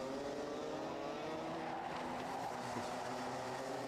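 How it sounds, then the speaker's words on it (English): A train of Super One series racing karts circles the track near Christmas Corner, their engines whining together in a steady, fairly distant drone with shifting pitch. "This train of carts makes its way around Christmas Corner and back down the hill."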